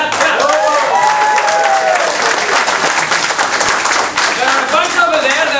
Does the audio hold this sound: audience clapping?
yes